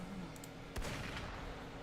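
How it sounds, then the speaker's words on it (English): A single gunshot rings out in the Wuthering Waves video game, a sharp crack with a brief rumbling tail over a low ambient hum. "Gunfire! We've got intruders."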